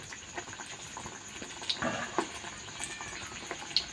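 Katla fish and puffed rice fritters frying in oil make a soft, steady sizzle and bubble, with faint crackles and a few small pops scattered across the quiet frying.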